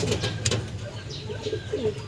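An injured racing pigeon makes soft, low cooing calls in short repeated phrases, close and quiet, with faint background noise around it.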